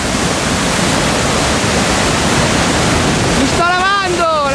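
A powerful waterfall in Namibia roars as dense, continuous broadband noise right at its lip, loud and unbroken throughout, with a brief whistling tone near the end.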